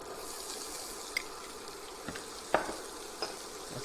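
Peppers fry in a pan with vegetables, a faint, even sizzle broken by a few soft clicks and taps of a utensil, heard quietly without any talking.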